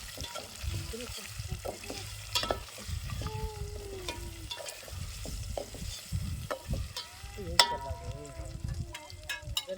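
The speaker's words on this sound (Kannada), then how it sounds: "ನೋಡ್ರಿ ಈ ಹತ್ತಿಗಳು ಒಂದೊಂದಾಗಿ ಎಣ್ಣೆ ಬಿಡ್ಕೋತೀನಿ ಎಣ್ಣೆ ಒಳಗೆ ಒಂದು ಸ್ವಲ್ಪ ಫ್ರೈ" Corn flour dumplings bubble and sizzle in hot oil, dropped in one by one, with uneven crackling bursts, stirring scrapes and a faint voice in the background.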